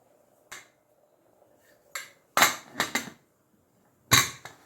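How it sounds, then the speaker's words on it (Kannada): A pressure cooker lid being closed over kabuli chana masala: several sharp metallic clanks and knocks, close and fairly loud, with a quick double clatter near the middle and silence between. "ಈಗ ಕುಕ್ಕರ್ ಮುಚ್ಚಳ ಮುಚ್ತಿದ್ದೇನೆ"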